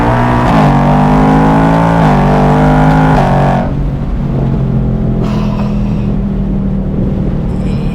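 A 2024 Ford Mustang GT engine pulls hard under acceleration, a loud, close, rising V8 roar that climbs in pitch before easing into a steadier drone as the gear changes, with no voices over it.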